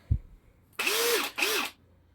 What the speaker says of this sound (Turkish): Önce delme testiyle başlayalım.